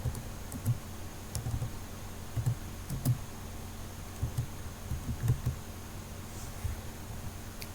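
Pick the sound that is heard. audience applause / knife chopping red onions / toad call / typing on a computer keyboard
typing on a computer keyboard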